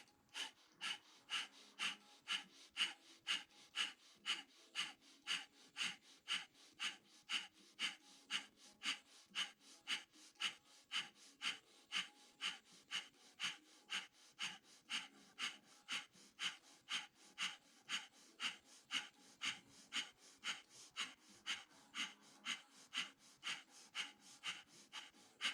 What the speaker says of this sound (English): balancing on our lower back, we'll do breath of fire for 1 minute